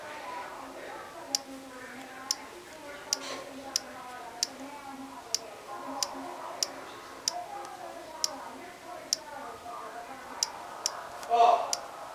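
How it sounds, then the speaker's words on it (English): Virtual keyboard taps on an iPod touch, sharp single clicks spaced roughly a second apart over a faint background, with soft talk nearby. "let me type that in"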